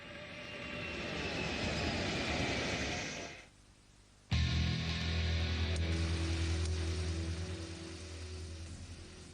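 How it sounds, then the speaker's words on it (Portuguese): Jet engine of a Lockheed U-2 spy plane, a loud, steady roar that drops away briefly and then returns at full strength as a heavy, sustained drone. "o avião espião U-2"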